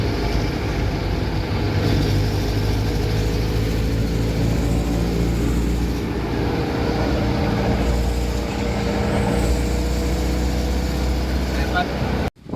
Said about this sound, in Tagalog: Sabay may papasok na dump truck.